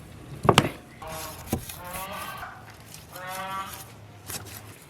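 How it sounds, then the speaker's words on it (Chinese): A big cleaver chopping beef ribs in a home kitchen, a few heavy thuds with a sharp loud blow near the start, while people talk in between. "现在把牛排先剁一下"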